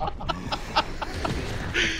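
A man imitates a chicken with a rapid series of short, clucking bursts, close and loud, amid game-chat noise.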